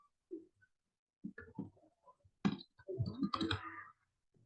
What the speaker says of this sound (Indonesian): Cukup mengetik